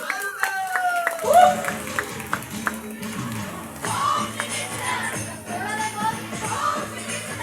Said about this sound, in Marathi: एकदा जोरदार टाळ्या वहिनींसाठी